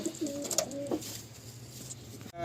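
Pigeons in a pigeon loft give a few soft, low coos early on over a quiet airy background, then the loft falls still.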